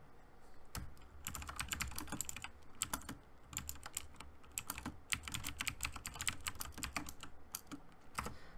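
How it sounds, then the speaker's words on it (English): A loud computer keyboard clatters with steady typing, dense bursts of key clicks running continuously with brief pauses, close up and with no voices. "I do apologize for the clicking my keyboard. It's pretty loud"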